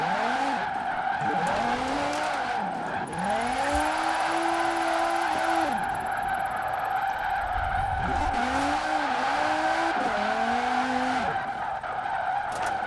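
A car drifts in Forza Horizon 4 with loud tire squeal and skidding. Repeated rising and falling screeches ride over a steady engine drone through several slides, close and continuous, with no talking.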